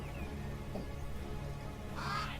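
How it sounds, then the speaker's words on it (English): Crows cawing in the fantasy strategy game Age of Wonders III, a brief harsh call rising near the end over a steady low in-game ambience. "My crows."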